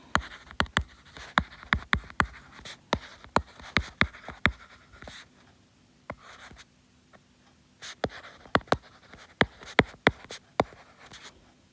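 Chalk or marker tapping and scratching on a board, a brisk run of sharp strokes and ticks that pauses briefly midway and then resumes, close and clear with no talk.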